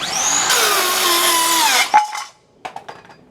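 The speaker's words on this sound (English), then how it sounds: "those saws aren't made for doing anything but cutting straight" A power saw bites through a log for a log box, a loud whining buzz that holds steady, drops in pitch as the blade binds, then cuts off, followed by a few clunks and knocks.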